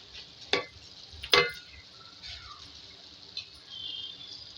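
Aloo bhindi, potatoes and okra, being stirred in a pan: two sharp scraping strokes of a spoon near the start, a softer one later, over a faint low sizzle that rises slightly at the end.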